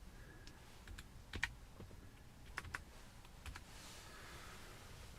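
Faint keyboard typing at a computer in an observatory setting: a few scattered, soft key clicks in short bursts over a quiet room hum, with no voices.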